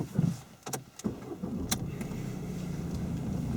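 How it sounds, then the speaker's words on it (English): A car engine cranks over in a short burst, catches and then settles into a quiet steady idle, heard from inside the vehicle before it pulls out of a parking bay. "Good, right, if you start the engine, Tony."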